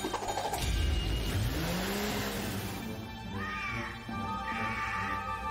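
A cartoon cat meowing: a few short rising and falling mews, fairly quiet, over a busy backdrop of music and rumbling effects.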